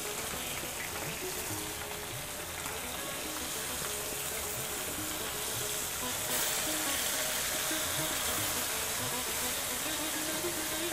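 Steady, close sizzling and crackling of fish frying in hot oil in a pan, a continuous hiss that holds even throughout.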